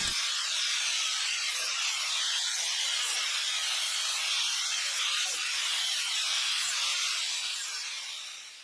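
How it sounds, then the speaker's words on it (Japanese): Steady, harsh hiss of a power tool cutting wire mesh protruding from a wooden frame for a homemade rose trellis, continuous and loud throughout before tapering off at the end. "木材から飛び出た金網をカットします。"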